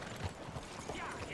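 Horse hooves clip-clop in Red Dead Redemption as the rider travels, a short, busy stretch of steady hoofbeats blended with game ambience and faint voices.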